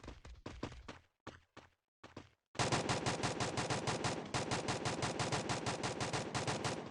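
Gunfire in Free Fire, a battle royale game: a few sparse shots, then a long, loud, steady automatic burst of rapid evenly spaced shots that runs to the end.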